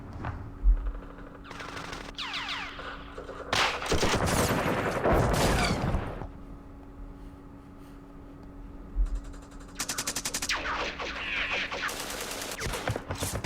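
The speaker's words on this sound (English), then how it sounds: "they're shooting in the dark" Gunfire in the war game Campaign Series Vietnam during the Dien Bien Phu battle: several loud bursts of automatic fire, with dull single shots and mechanical clicks between them.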